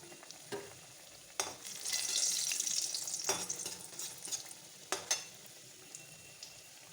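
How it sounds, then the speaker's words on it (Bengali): Palm (taal) saptapuri pithas fry in oil with a soft steady sizzle that swells briefly, punctuated by several sharp clicks and taps of a utensil against the pan, close and fairly quiet, with no talking. "এবারে এমন করে সব ভেজে নেবো পিঠেগুলো"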